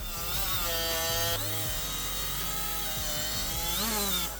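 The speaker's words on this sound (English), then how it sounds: "I'm going to take a wire wheel and knock the rust out of this thing." Steady high-pitched whirring grind of a wire wheel scouring rust off a Toyota lower control arm, loud and continuous with slight pitch dips as it bites into the metal, no talking.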